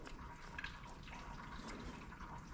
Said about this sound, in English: I've got the radiator draining now.